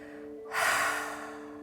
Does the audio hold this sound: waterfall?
no